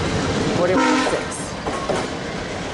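A VIA Rail train's horn sounds for a crossing near St. Mary's, with Budd coaches in the consist. A loud, steady harmonic blast rises over the rumble and clatter of the rolling train, followed by a shorter second note.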